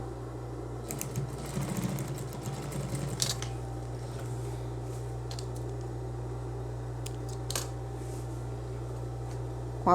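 A sewing machine runs steadily through satin robe fabric, a soft low mechanical hum with faint clicking and light rustles on top, quiet and continuous with no talking.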